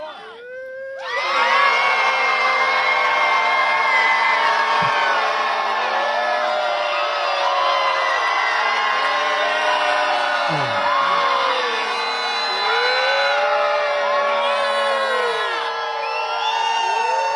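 A protest crowd screams and whoops together, one loud, sustained mass of shrill voices that starts abruptly and holds for many seconds without a break.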